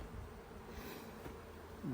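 A close, steady buzzing of many honeybees at a hive entrance hums continuously, with no voices present.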